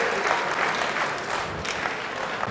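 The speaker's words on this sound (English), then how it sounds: "boy, did that get the crowd going again" A pool crowd breaks into brisk applause after a carom shot in a 2022 US Open Pool Championship semi-final, clapping steadily at moderate distance for a couple of seconds.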